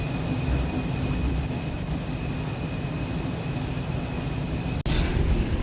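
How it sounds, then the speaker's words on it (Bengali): The Parabat 12 passenger launch traveling from Dhaka to Barishal gives a steady, loud broadband rumble of engine and propeller thrust with a faint constant whine, continuous throughout apart from a brief dropout near the end. "তো এই হচ্ছে লঞ্চের প্রোপেলার থ্রাস্ট।"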